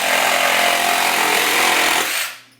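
RIDGID 18V cordless saw cutting in orbital mode, a loud, steady buzzing motor and blade rasp heard close up, ending abruptly as the cut finishes and the tool stops.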